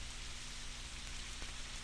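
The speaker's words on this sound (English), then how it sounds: "It was raining hard" Steady, dense rain hiss filling the background, constant and even, with no other sounds standing out.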